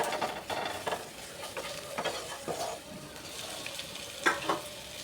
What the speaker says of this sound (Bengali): ভালো করে পেঁয়াজটাকে ভেজে নিয়েছি মশলার সাথে।